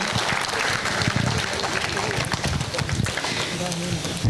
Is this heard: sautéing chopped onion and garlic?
no